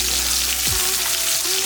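A handful of small onions added to hot oil for a cowpea curry, producing a steady, loud, close sizzle and crackle of frying that runs continuously throughout without speech.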